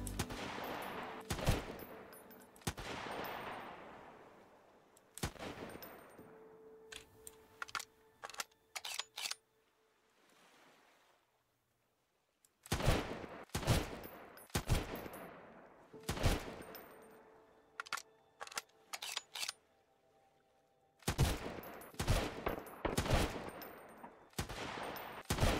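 Enemy gunfire in the survival video game Sunkenland, with sharp bursts of rapid shots in clusters separated by quieter gaps, loud and close.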